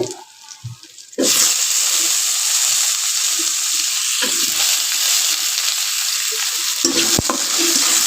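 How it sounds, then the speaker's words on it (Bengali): Chopped tomato and bay leaves hit hot oil in a pan, setting off a sudden loud, steady sizzle that runs on continuously after a brief quieter moment of stirring, with faint scraping now and then. "তেজপালা লাল লাল করে ভাজা হয়ে দিয়েছে এখন আমি এর ভিতরে দিয়ে দেব একটা টমেটো কুচি"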